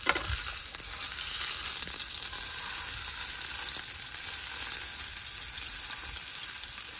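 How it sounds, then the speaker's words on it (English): Food charring in an oiled pan on a camper stove outdoors, giving off a steady, close, bright sizzle that holds level the whole time. "So now I'm gonna char the sides a little bit."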